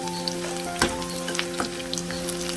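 Bitter gourd sizzles steadily in hot oil in a pan for pickle, with a few sharp stirring clatters breaking through the continuous frying hiss.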